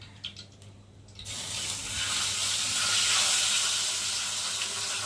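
Pabda fish frying in hot oil in a kadai, a steady loud hiss and crackle that swells in after a quieter start and holds close and bright with no talk.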